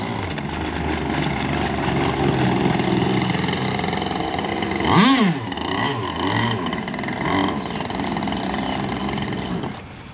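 An RC gas boat powered by a Zenoah 26cc two-stroke engine drones steadily at about half throttle, with a brief rising and falling rev partway through, before the buzzing engine cuts off near the end.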